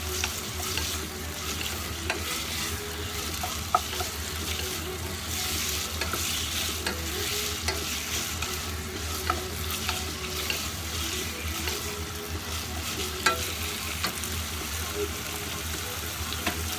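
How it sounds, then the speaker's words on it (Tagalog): Chicken sautés in a pan for a Filipino chicken sotanghon soup, giving a steady close sizzle and frying hiss with repeated scraping stirs throughout. "Diretso ko na lang siya igigisa."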